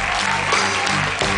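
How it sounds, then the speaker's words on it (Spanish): Loud audience applause at a live orchestra show, a dense, steady wash of clapping from the crowd for the technical crew, continuing without pause. "Un fuerte aplauso para el equipo técnico allá al fondo, por favor."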